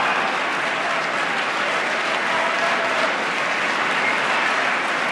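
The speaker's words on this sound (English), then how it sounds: "the applause when he said he had no more campaigns to run" Loud, sustained applause sweeps through the chamber during a State of the Union address, a dense wall of clapping that holds steady for the whole stretch.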